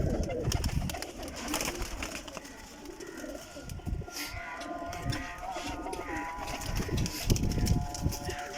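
Pigeons coo in soft, repeated calls on a village rooftop, close by and fairly quiet, mixed with faint shuffling and other low background noise.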